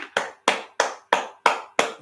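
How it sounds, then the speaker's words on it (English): Six sharp, evenly spaced claps ring out close by in a steady rhythm, each one loud and crisp against an otherwise quiet background. "Give him a clap."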